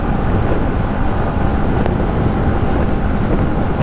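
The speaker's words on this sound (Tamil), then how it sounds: "நல்லா ஜில்லுன்னு காற்று வர" Steady wind buffeting roars past a rider on a Yamaha MT15 motorcycle cruising along a highway, a continuous dense rush with the engine buried beneath it and no speech.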